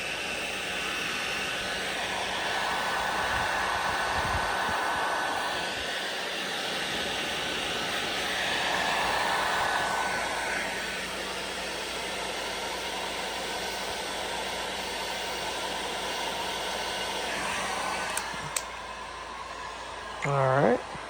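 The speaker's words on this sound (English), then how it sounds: "Gonna shrink the heat shrink." A heat gun blows a steady broadband hiss while shrinking heat shrink tubing over joined wires on a Carolina Skiff boat's voltage regulator wiring, running continuously at moderate loudness before cutting off, with a few handling clicks at the end.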